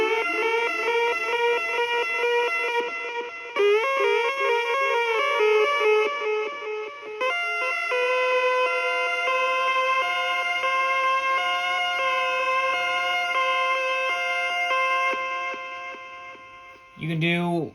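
A KORG monotron analog synthesizer mimics a police siren with loud, buzzy sustained tones that warble and shift in pitch for a long stretch, then drop into a low swoop at the end.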